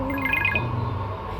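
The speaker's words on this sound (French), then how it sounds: "C'est un téléphone." A short telephone ring tone chirps a few times inside a Roblox game, sitting over a steady electronic game-music hum.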